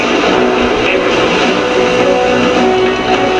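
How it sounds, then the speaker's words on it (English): In Metal Gear Solid 2, a helicopter gives off a loud, constant engine roar and rotor drone that fills the whole short stretch without letting up, with a voice mixed in underneath. "Is that a chopper I just heard?"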